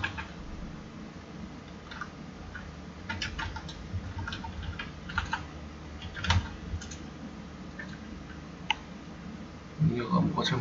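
Commands typed on a computer keyboard, a scattered series of light clicking keystrokes in short irregular runs, close by under a low background hum.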